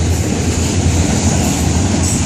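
Florida East Coast freight train rolling past with locomotives 719 and 717 in the lead, a loud, steady, close rumble of wheels and rail noise filling the whole stretch.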